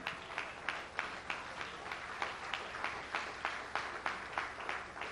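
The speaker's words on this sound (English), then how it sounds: "Let's give Brother Steve Coakley a round, strong applause" Audience applause for a speaker at a lecture, a steady wash of clapping with rhythmic, regularly spaced louder claps running through it, moderately distant.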